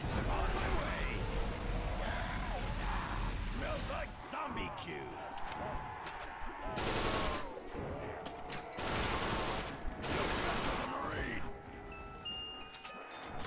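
Uzi submachine gun in the zombies mode of the World at War video game, rapid bursts of gunfire repeating across the clip amid dense game noise, with some speech mixed in.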